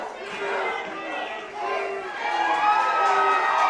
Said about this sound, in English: And listen to that, the crowd solidly behind Jacob Ashworth, the hometown boy